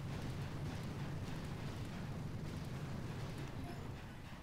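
Artillery and missile explosions rumbling in Boom Beach, a dense continuous low roar of blasts blending together at moderate volume throughout.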